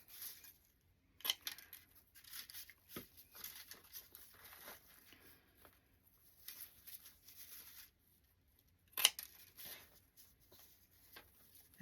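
Scissors snip wreath decorations for a gnome-themed Christmas craft, faint scattered cuts and rustles in a quiet room, with a couple of sharper snips standing out.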